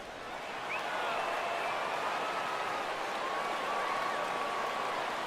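Baseball stadium crowd in MLB 15 The Show rising for a full 3-2 count, a steady, dense wash of murmuring, cheering fans that swells early and holds at a constant level, with faint whistles threading through.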